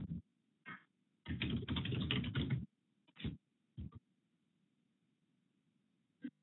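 Computer keyboard typing while entering trade targets in a live stock-trading room: a quick burst of keystrokes, then one long dense run of rapid clicks, followed by a few short isolated bursts, close and fairly quiet over a low steady hum.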